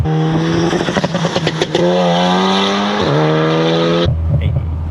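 Loud, rasping engine of a Stage 3, 500 BHP Mk3 Seat Leon Cupra R revving hard through rising gear pulls, dipping briefly between shifts before cutting off abruptly near the end.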